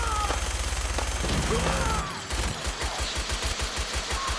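Close-range gunfire in Fallout 4, a rapid, loud stream of shots from a fancy gun that breaks into a quick pulsing series of punchy bursts, set amid dense game noise.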